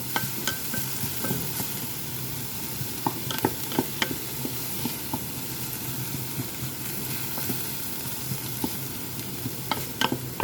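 Squid adobo with tomato being stirred in a pan, a steady frying sizzle running throughout with frequent scrapes and clinks of the utensil against the pan, close up, with no talk.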